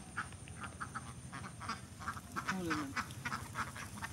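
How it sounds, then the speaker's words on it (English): Ducks quack repeatedly on a farm in Ubud, a steady chorus of short nasal calls over outdoor ambience, with faint voices in the background. "There he is. Farming his ducks."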